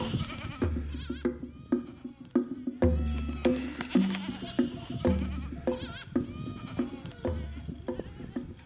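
Goats in a Himba village bleat repeatedly and close by, several overlapping calls in irregular bursts with short gaps of quiet between them.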